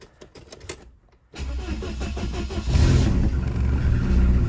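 A Ford Crown Victoria engine cranks and catches after a few soft clicks and a moment of quiet, then settles into a loud, steady, close running rumble that swells slightly in the last seconds; no one speaks.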